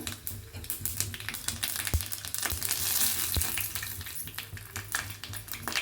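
Mustard seeds crackle and sizzle in hot tempering oil in a small ladle, a steady frying hiss broken by sharp scattered pops and snaps, close and fairly quiet.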